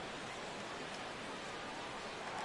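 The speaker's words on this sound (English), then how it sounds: "the conditions aren't ideal with the rain coming down" Steady rain falling over a baseball stadium in MLB The Show 17, a constant soft hiss of even noise throughout with no distinct drops standing out.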